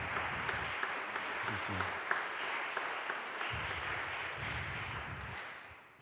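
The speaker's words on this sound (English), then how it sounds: "So let's have a round of applause for John." A room of attendees at an annual parochial church meeting gives a round of applause, a steady spread of clapping with a few sharper individual claps, while low murmuring voices come and go underneath before the clapping fades out.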